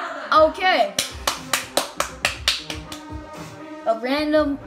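Rhythmic claps, about ten sharp, evenly spaced hits, sound inside a Roblox Murder Mystery 2 game session, with a voice speaking briefly before and after the run of claps.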